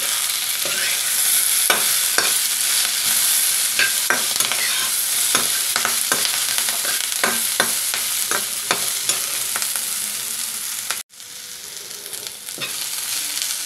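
Pumpkin pieces and a sprig of curry leaves sizzle steadily in a pan, with repeated scraping stirs and clinks throughout and a brief dropout near the end before the frying resumes.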